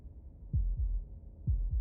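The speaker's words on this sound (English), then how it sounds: "That was the sound of a heartbeat," A heartbeat sound effect from the video game Slay the Princess: two pairs of deep, soft thumps with a steady lub-dub rhythm, heard alone over a faint low rumble.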